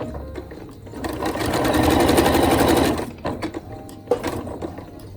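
Sewing machine stitching a simple skirt, a steady close whirring hum that builds and runs for a couple of seconds before slowing, followed by small clicks and fabric handling, no speech.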